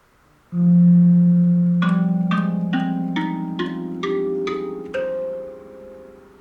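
Resonant metallic tones from a handpan-style instrument tuned to an F low pygmy scale with an added C5, a low sustained note followed by a rising run of struck notes that ring and overlap.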